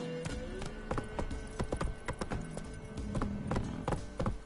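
Roach the horse trots through The Witcher 3, a run of hollow hoof clip-clops in uneven bursts over a steady game ambience, close and fairly loud.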